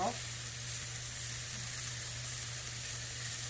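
Yellow and red bell peppers stir-frying in a lightly oiled pan for spicy japchae, giving a steady, even sizzle that holds without a break throughout, with a faint low hum beneath.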